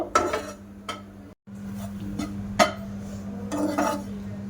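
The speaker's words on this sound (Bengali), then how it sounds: "পাউরুটির গুঁড়োটা আমি লাল লাল করে একটু ভাজা মতো করে নেব।" Bread crumbs toasting in a frying pan while being stirred, with a spatula scraping and clinking against the metal in irregular bursts over a steady low hum.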